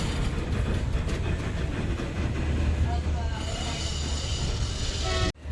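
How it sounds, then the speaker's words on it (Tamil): A passenger train reverses to couple onto another train on the Hyderabad to Goa run. Loud, continuous rumbling of wheels on rails comes with faint metallic squeals, and the noise runs steadily before stopping abruptly near the end. "ஸோ ட்ரெயின் ரிவர்ஸில் போயிட்டுருக்கு."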